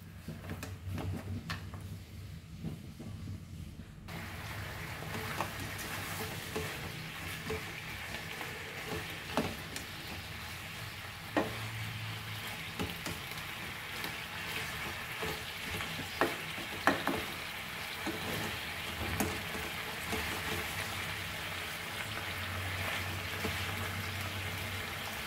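Pork trotters fry in a pan for a Goan curry, giving a steady, fairly faint sizzle with occasional clinks and scrapes of stirring, with no talking.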